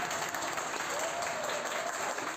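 Hospital staff applaud as a recovered patient leaves the hospital, a steady, dense wash of clapping from a group that holds even throughout, with no pauses.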